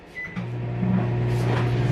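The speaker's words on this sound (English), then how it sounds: "Put it in the microwave." Microwave oven heating hot dogs, a door clunk and beep followed by the steady loud electric hum of the running oven close by.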